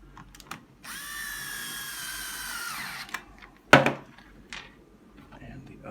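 A power drill drives screws back into a Bugaboo Buffalo/Donkey stroller's brake and rear wheel locking assembly, giving one steady whine of about two seconds that winds down, followed by a sharp clack and faint handling noises.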